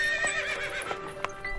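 A horse, a special mount from the Scindia stables brought out for the queen, gives a bright, high neigh over a few light hoof clops. The sound is close and clear, with no talking.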